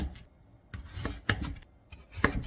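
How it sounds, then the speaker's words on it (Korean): A knife chops through half a radish on a board, cutting it into quarters: a few separate sharp cuts spaced apart, each a brief crisp crunch with a thud, close and fairly quiet, with no talk. "무 2분의 1개 600g은 반으로 갈라 4등분 하세요"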